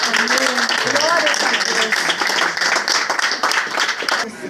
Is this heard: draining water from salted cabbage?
no